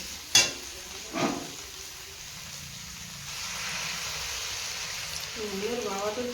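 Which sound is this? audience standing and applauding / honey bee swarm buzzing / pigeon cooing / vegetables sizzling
vegetables sizzling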